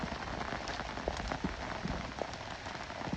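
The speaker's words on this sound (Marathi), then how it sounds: "कसला पाऊस आला एक नंबर" Monsoon rain falls steadily in rural countryside, a dense hiss of drops on surfaces with scattered closer splats, continuous and moderately loud, no voices.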